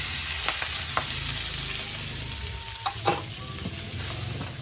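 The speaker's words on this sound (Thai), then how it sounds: "สูตรพวกนนี้ต้องผัดกระเทียมให้หอมก่อนนะคะ" Garlic stir-frying in a pan for a Thai home dinner, a constant loud sizzle with occasional scrapes and knocks of the spatula, no talk.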